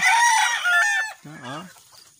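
Fighting roosters in a backyard: a loud close crow rings out, followed by a shorter, lower rooster call.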